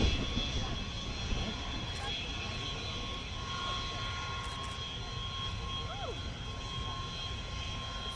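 A fixed-wing aircraft at an air show taxis back up the runway, its engine a steady, loud, continuous drone with a brief rising and falling whine partway through.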